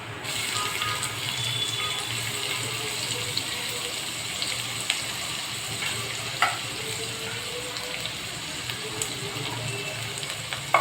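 Onion fries in hot oil with cumin seeds in a pan, giving a moderate, even crackling hiss with scattered small pops and ticks that runs unbroken, with no talking.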